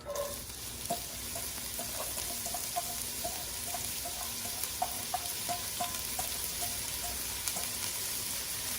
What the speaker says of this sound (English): we're going to saute the first onions for about 4 minutes until they soften up